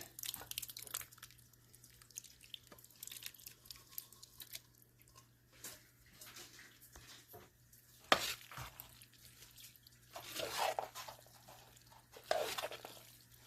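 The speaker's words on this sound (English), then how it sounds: "next I'm going to add my beans" Beans go into a pot of ground turkey chili mac, with wet plops, sizzling and spoon stirring scrapes in irregular bursts under a steady low hum, close and moderately quiet.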